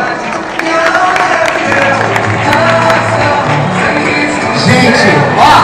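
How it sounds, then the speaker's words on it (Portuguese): At a drag wig fashion show in a shopping mall, the audience keeps up a continuous crowd roar of applause and cheering while a voice shouts over it through the whole stretch. "E agora mais aplausos, gente!"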